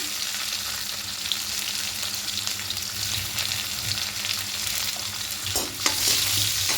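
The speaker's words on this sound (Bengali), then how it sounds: "এবার তেলের মধ্যে ফোড়নে পাঁচফোড়ন দেব আর থেকে করা রসুন কুচিগুলো দেবো" Panch phoron spices and chopped garlic frying in hot oil, a loud continuous sizzle with stirring scrapes, a few sharper bursts near the end, no talking.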